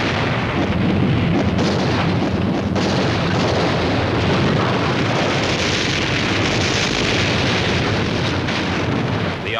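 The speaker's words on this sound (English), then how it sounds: "200 German divisions move forward under cover of a massive artillery barrage." Massive artillery barrage from WWI archival footage as German divisions advance along a wide front in a spring offensive, a continuous loud rumbling roar of distant and near blasts that stays dense and unbroken throughout.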